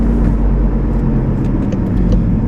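A deep, steady engine rumble from a Volkswagen Mk7 Golf R with an aftermarket exhaust, idling or cruising, loud and continuous with a throaty low drone and no talking.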